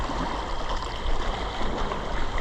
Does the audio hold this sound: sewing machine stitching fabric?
no